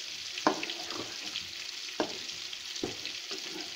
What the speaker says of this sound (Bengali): এবার আমি কিছুক্ষণ আড়ে দিচ্ছি, দেখুন একদম ভুনা ভুনা হয়েছে ভাজিটা।